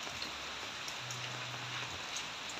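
Rain falls steadily during the wet season at a barracks construction site, a soft continuous patter and hiss at moderate distance with no voices.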